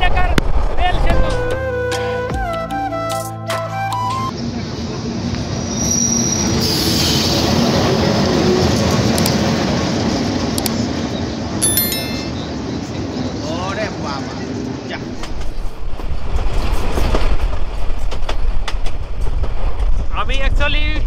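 Lalmoni Express passenger train rumbling across the Jamuna rail bridge in Bangladesh, a steady loud roar of wheels and cars with occasional squeals and clanks, heard from aboard the train with voices in the background.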